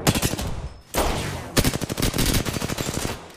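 Rapid automatic weapon fire in the shooter game Apex Legends, loud close bursts with a brief pause near the one-second mark, then sustained rattling shots continuing alone.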